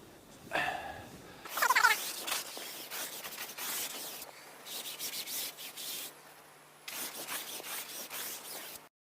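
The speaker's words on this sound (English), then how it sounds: "Now I'm going to use the broom just to give it a little bit of a scrub." A broom scrubbing an awning: close, irregular bristly scraping strokes in short bursts separated by brief pauses, moderately loud, with no talking.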